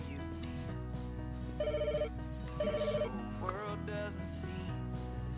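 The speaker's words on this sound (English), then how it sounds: "Oh, gonna answer the phone again." A telephone rings in the Pets Hotel simulation game in two short electronic trilling bursts with a pause between them, playing over steady background music.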